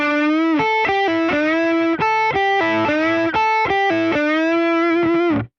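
Distorted electric guitar playing a slow lick, with notes bent upward and quick pull-offs between them, loud and close with sustained ringing.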